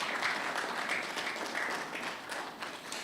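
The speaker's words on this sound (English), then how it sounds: "another round of applause for them" Steady applause from an audience at an architects' institute annual general meeting, sustained clapping filling the hall throughout at an even level.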